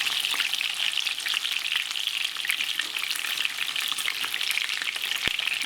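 Lamb sirloin sears in a pan with butter, a steady dense sizzle and crackle of frying fat that runs unbroken throughout, with a brief tap near the end.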